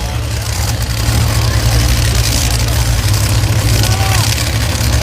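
Drag racing cars at Dragway at The Bend during the 2023 Spring Nationals give off a loud, steady, deep engine rumble that fills the whole stretch without letup.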